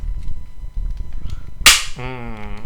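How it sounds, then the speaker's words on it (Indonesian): A Zhengsangtai Q1 airsoft Glock 18 fires once without BBs, a single sharp, loud snap followed by a brief ringing mechanical tone, with quiet handling noise before it. "Bunyi tembakannya seperti ini. Ini btw nggak ada peluru ya, cukup keras ya kalau dibilang."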